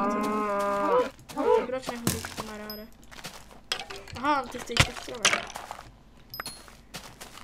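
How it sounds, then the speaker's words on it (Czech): Cows mooing in a multiplayer video game, several short repeated bovine moos in quick succession, with someone speaking and occasional clinking game sounds in between. "A hodně kráv."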